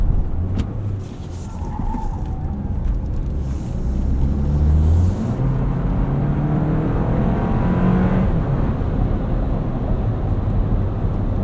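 A 2024 Toyota Land Cruiser First Edition with an 8-speed automatic accelerates on the street, heard from inside as a loud, steady engine drone whose low tone climbs and shifts across the run, with road noise underneath.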